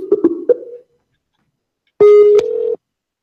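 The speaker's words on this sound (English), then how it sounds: "I'm gonna call you on your phone" Phone dialing tones: a quick burst of three short keypad beeps, then a pause and a louder steady tone pair lasting under a second, with no voices.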